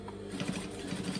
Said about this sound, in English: Just pushing my overlocking again down into the seam.